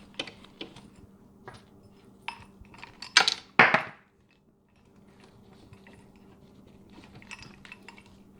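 Metal bolts clink and rattle while a big and tall gaming chair is assembled: a scattering of light taps, then a sharp burst of clattering metal, a short silence, and more faint handling noises.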